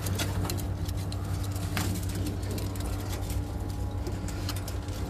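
Pigeons cooing in a rooftop loft, low steady coos running through a dense, constant background hum that sounds like a nearby engine, with occasional sharp clicks and taps.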